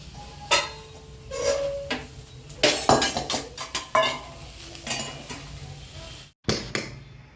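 Mint rice is served into a bowl with a string of close, sharp clinks and scrapes of a spoon against dishes, separated by short pauses; no one talks.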